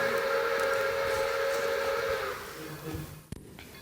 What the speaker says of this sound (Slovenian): In zapiskal je vlak skozi mrak.